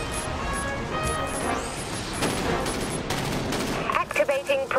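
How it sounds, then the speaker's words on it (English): Primary ship weapons firing in the Dreadnought space combat game on a PS4 T4 destroyer, a dense continuous barrage of rapid gunfire blasts with bursts of synthetic impact tones near the end, under game voices. "Swapping to primary weapons, Captain."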